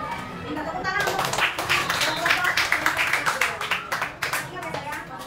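Applause in an Indonesian classroom, with children clapping in a quick, fairly loud patter for several seconds alongside young voices and chatter.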